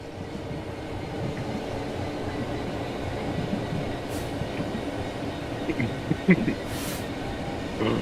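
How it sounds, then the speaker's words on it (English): Steady low rumble of a train getting underway in Train Sim World 4, with a few faint clanks and hisses over the continuous engine drone. "Apply some throttle to get the train moving."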